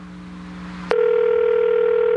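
A telephone call rings out on the line, a steady electronic tone that starts suddenly partway through and holds level and fairly loud, following a softer lower tone with a faint buzz beneath it.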